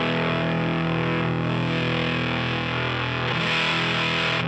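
A sustained, bright, aggressive fuzz-distorted guitar chord through a Walrus Audio Janus tremolo/fuzz joystick pedal rings out steadily, growing slightly brighter near the end.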